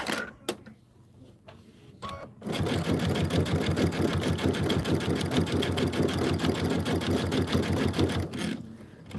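A sewing machine runs fast and steady for several seconds, stitching a June Tailor Casablanca placemat with a close, loud, even rapid clatter, preceded by a few soft handling clicks and ending abruptly.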